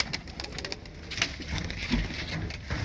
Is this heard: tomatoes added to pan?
no